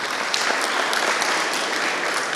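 Steady audience clapping at a children's Catholic quiz gathering, many hands together at close range, even and moderately loud with no voices over it.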